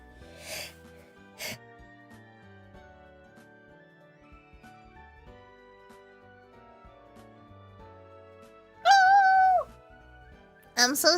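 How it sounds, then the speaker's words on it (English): Several quick, sharp sneezes burst out at intervals, with a longer voiced sneeze near the end and another close behind it. Quiet game sounds play throughout in the background. "I'm gonna sneeze again."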